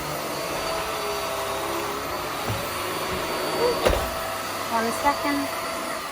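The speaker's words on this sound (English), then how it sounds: "We might be able to hoover that mat now." A Vax Airmax Stretch vacuum cleaner running indoors over a mat with a steady, loud motor whine and airflow hum, a few bumps and rattles of the head, and a person speaking briefly over it.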